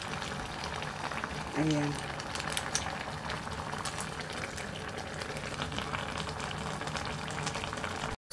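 Covered pot of spicy seafood mix with chili boiling on the stove, a soft continuous bubbling hiss at moderate distance, with a brief word spoken over it.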